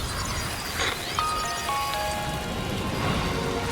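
Steady rain hisses down across a scene in the video game Death Stranding 2, an even wash of droplets with a few faint tonal chimes sounding above it.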